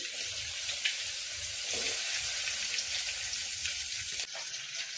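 Mustard seeds, cumin, curry leaves and crushed garlic fry in hot oil for tomato chutney, giving a steady close hiss and crackle with scattered small pops throughout.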